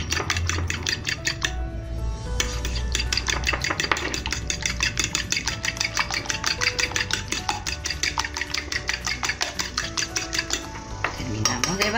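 A fork or whisk beats egg in a bowl for coating chicken breast fillets for homemade milanesa, a steady rapid clatter of utensil against the bowl running throughout, close and fairly loud, with no talking.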